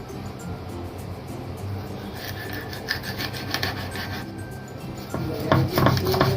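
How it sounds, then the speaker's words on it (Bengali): Pomfret fish being cut into pieces with a knife, a close scraping and rasping on a hard surface with repeated short chopping strokes, getting louder and busier toward the end. "এখন মাছগুলি আমি পিস করে নেব।"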